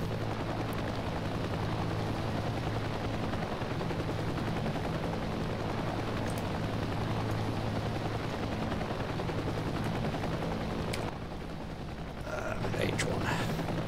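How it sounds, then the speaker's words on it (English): Attack helicopter in the combat video game Heliborne, a steady droning rotor and engine hum with bursts of gunfire layered over it, holding constant before briefly dipping near the end. "What I might do is put this down and go give the attack helicopter a go."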